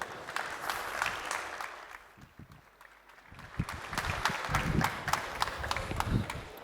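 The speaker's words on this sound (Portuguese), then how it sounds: "Uma salva de palmas." An audience claps for two speakers stepping onto a stage at a NOS technology conference, the applause broad and steady, dipping briefly midway before swelling again with a few scattered voices mixed in.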